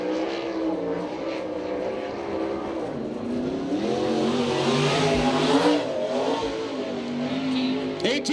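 USAC/CRA sprint cars race on a dirt track in Tucson, Arizona, their loud engines roaring and rising in pitch as they pass while an announcer talks over them.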